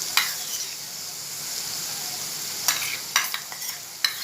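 Egg curry masala frying in a pan while being stirred: a steady close sizzle runs throughout, broken by a few sharp scraping taps of the spoon toward the end.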